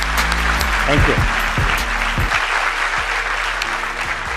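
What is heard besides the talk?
loud applause from an audience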